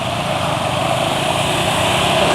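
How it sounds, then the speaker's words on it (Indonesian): A small engine runs steadily up close with a fast, light ticking tappet rattle in its drone, loud and continuous, from running on fake Mesran oil. "suara mesin atak-atak jadi sangat jelas sekali terdengar ya"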